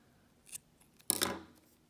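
Scissors snip the long yarn tail on a knitted baby hat: a faint quick open then one crisp close, close by in a quiet room.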